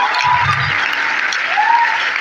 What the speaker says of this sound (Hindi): तो दीपक कुमार सिंह के लिए एक जोरदार ताली होनी चाहिए।